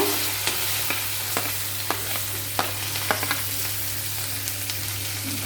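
Chopped onions frying in hot oil with a continuous sizzle, stirred with a spatula that scrapes and taps the pan at a steady, irregular rhythm, up close and with no voices.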